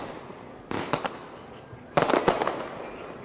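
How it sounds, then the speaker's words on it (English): Fireworks set off by protesters at a street protest: two bursts of sharp, loud crackling bangs, a few pops first and then a denser cluster, over a low background murmur. "They're setting off fireworks right now"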